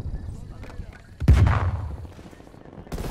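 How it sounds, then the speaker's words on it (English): Gunfire in a sniping shooter video game aimed at a mannequin: one loud, booming shot with a rumbling tail, then quieter game ambience and another burst near the end. "You're shooting at a mannequin, bro."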